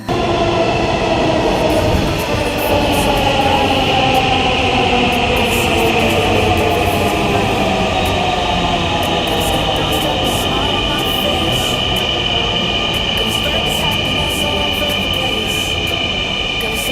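Dhaka metro rail train heard from on board, a steady loud rumble of wheels and motors with a rising whine, continuous throughout with faint voices in the background.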